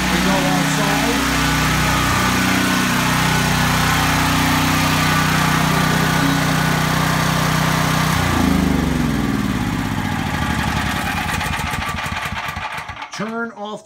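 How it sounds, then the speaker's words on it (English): Portable generator running close by with a loud, steady engine drone that shifts pitch partway through before sputtering and fading near the end, with no talk. "Allow the generator to run about 1 minute for it to normalize"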